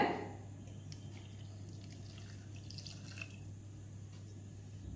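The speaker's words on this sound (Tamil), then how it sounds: "இந்த பருப்புக்கு தேவையான அளவு தண்ணி ஊற்றிக்கலாங்க" Steady trickle of water running into a pot of lentils, a continuous soft liquid flow with faint drips, close by and without talk.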